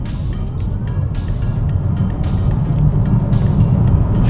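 A 2023 Hyundai IONIQ 6 electric car accelerating hard, heard from inside as a dense, loud rush of road and wind noise that swells steadily with no engine note.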